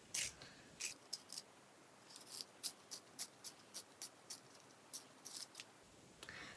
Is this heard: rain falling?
no